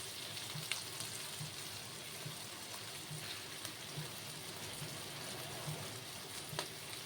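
Ground spices sizzle in hot oil in a pan, cumin powder among them, with a steady close crackle and faint scraping of stirring, no voices present.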